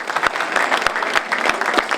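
Audience applause at a St Patrick's Day celebration, a short burst of dense clapping with a few sharper individual claps standing out, fairly loud and close.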